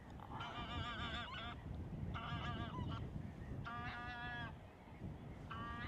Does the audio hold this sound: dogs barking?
no